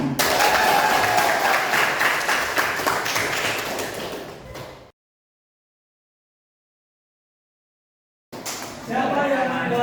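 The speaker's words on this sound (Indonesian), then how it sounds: "Tepuk tangan buat semuanya." Dense clapping from an audience at an in-person PPG Daljab teacher-training gathering, loud and steady for about five seconds, then a sudden dropout to silence before the applause resumes at the end.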